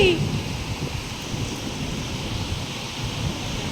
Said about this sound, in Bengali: বৃষ্টি খুব বৃষ্টি